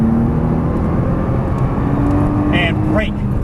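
A Nissan GT-R accelerates on a race track, its engine a loud, steady roar heard from inside the car, with a rising whine near the end while an instructor talks over it.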